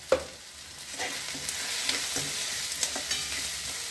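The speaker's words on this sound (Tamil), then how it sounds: "கொஞ்சம் மஞ்சள் பொடி வாசனை போகிற அளவுக்கு கொஞ்சம் வதக்கிக்கோங்க" Vegetables with turmeric powder for vegetable rava kichadi sizzle steadily in a hot pan, with a spoon scraping and stirring at irregular intervals over the constant frying hiss.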